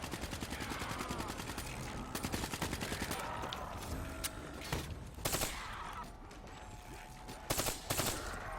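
Rapid gunfire from a weapon shooting zombies in Call of Duty Black Ops 3 zombies mode, dense bursts of shots with sharp louder cracks near the end, over a busy game soundscape.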